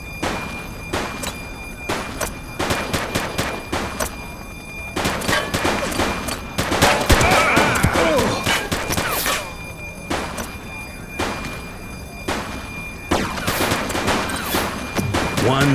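Dense bursts of gunfire from the video game The Precinct, a police shootout with rapid volleys and single shots close and loud in uneven clusters for the whole stretch, with occasional voices and thuds mixed in.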